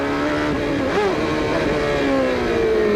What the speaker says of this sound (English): this shot offers a superb comparison between the Penske car just ahead of Nigel Mansell with an Ilmor engine and Nigel Mansell with his Lola Ford